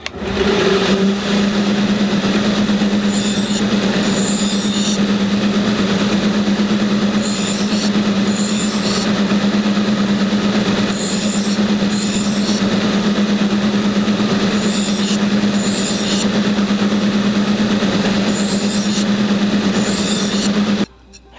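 Knife bevel being ground on a belt grinder with a 180-grit belt, a loud continuous motor whine and belt hum with repeated bursts of harsher grinding as the blade is passed across, stopping abruptly at the end.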